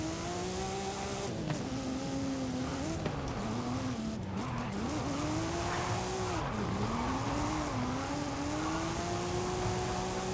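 Car drifting around a track in a racing video game, engine droning steadily with pitch dipping and rising through slides while tires squeal continuously, loud and close for the whole stretch.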